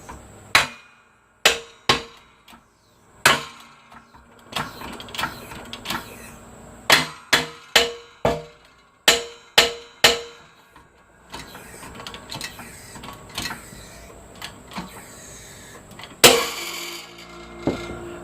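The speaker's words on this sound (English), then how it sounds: "we'll get all the pressure we can get on it and take a hammer and hit it" Sharp metallic hammer blows strike a front wheel bearing on a 2004 Mercedes C320 4Matic, coming in irregular bursts of single and quick repeated hits, close and loud, with a heavier final strike near the end.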